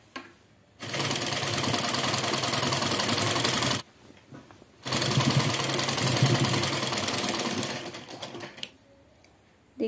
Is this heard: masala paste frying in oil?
no